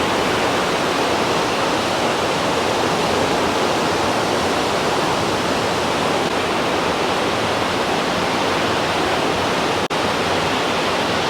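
Rushing waterfall near Lauterbrunnen in the Swiss Alps, a loud, steady broadband roar of falling water that holds unbroken throughout, with no voices.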